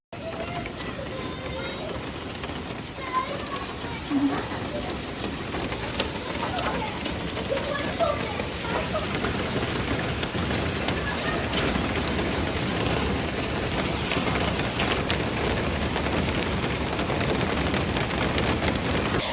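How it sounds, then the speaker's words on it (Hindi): Steady rain and hailstones pattering down during a sudden cold-weather change, a continuous dense hiss of impacts lasting throughout with scattered sharper ticks, fairly close and unbroken. "बारिश स्टार्ट होगी और साथ ही जो है वो ओले भी पड़ने लग गए।"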